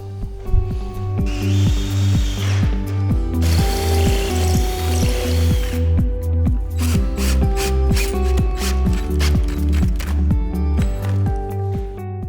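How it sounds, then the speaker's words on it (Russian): A power drill bores a hole through a fastener and drives a self-tapping screw into the metal of a frame, with a close, steady, loud whirring hum, brief ratcheting bursts and higher grinding in the middle, and no talking. "Нам осталось просверлить отверстие в заложенном крепеже и закрутить саморез а, в металл второй рамы"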